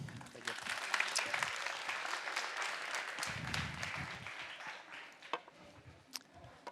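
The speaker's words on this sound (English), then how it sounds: "Please welcome, with a warm round of applause" Warm audience applause at a summit conference as a speaker is welcomed to the stage, a dense steady wash of many hands clapping for several seconds with a few sharper claps standing out near the end.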